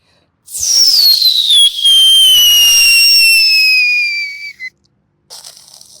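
A voice imitates fireworks, a long high whistling glide falling steadily in pitch like a rising rocket, loud and close for several seconds, then a brief pop and a faint trailing crackle.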